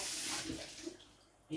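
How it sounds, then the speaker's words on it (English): Water pours steadily into a pot of simmering chicken soup, a close, rushing splash that thins out and tapers off near the end, with no talking over it. "we add water."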